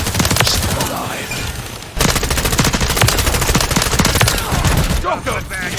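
Rapid automatic gunfire from a Call of Duty match on the Shipment map, dense continuous bursts of close, loud shots running almost without pause throughout, with a brief dip near the end.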